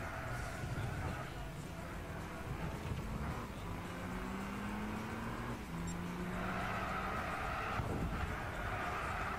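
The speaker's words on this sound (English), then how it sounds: "the Charger there drifting in front of me" A Dodge Charger drifting in Gran Turismo 6, with engine drone and drawn-out tire squeals rising and sliding across the clip amid other racing cars, with a voice talking over the noise.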